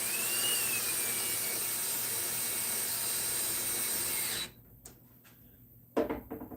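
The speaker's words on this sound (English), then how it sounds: "bring it home with the drill. It's a lot quicker." A cordless drill spins a threaded part home onto a lathe chuck, giving a steady, loud whirring whine for about four seconds that stops abruptly, followed by a quieter stretch and a short clunk near the end.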